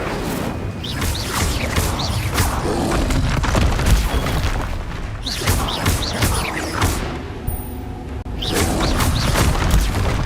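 Fire spells blasting during combat in the Hogwarts Legacy video game: loud booming bursts and whooshes that repeat in waves over a dense, roaring game soundscape, with no speech.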